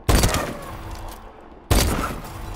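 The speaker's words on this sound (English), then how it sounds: "Now here's the Moors, which is unlocked at level 8, and everybody goes for the sniper." Two loud, close sniper-rifle shots from the Moors in Call of Duty Advanced Warfare, each a sharp crack with a long reverberant tail, spaced about a second and a half apart.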